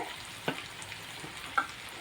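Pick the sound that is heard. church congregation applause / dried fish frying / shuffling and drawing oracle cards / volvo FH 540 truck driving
dried fish frying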